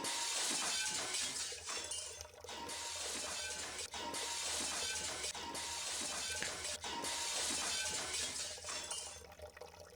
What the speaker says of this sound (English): This time I hear high-pitched noises of glass cracking.